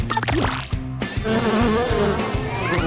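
Buzzing bees drone loudly and steadily, wavering in pitch, over a busy cartoonish background of music and effects from an Incredibox Sprunki game.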